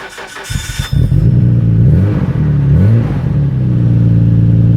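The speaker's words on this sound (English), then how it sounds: "when I was starting my car, it was cranking really slow, just like this" A Nissan R32 Skyline with a weak battery cranks slowly through a few labored turns before the engine catches, then runs loud and close with the revs rising and dipping.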